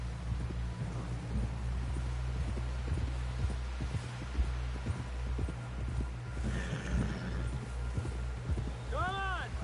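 Horse hooves clip-clopping at a steady walking rhythm in the Red Dead Redemption 2 video game, soft and close under a low hum, with people talking over the hoofbeats.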